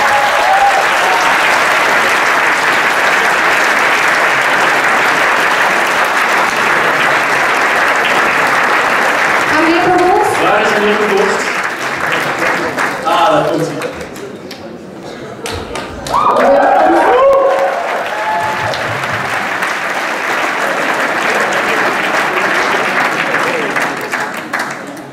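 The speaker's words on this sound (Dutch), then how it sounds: "alsof jullie het klappen nog niet moe zijn" Audience applause at a school event, a long sustained wash of clapping from a large crowd that dips briefly midway while a voice speaks over it, then swells again and continues steadily.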